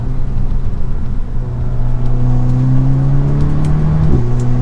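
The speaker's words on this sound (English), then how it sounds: "holding the brake, giving it gas, and instantly the turbo was already spooled up, giving me some power" A turbocharged car is held on the brake while the engine is revved, a loud steady droning hum that rises in pitch and holds, then dips slightly near the end, with no talk.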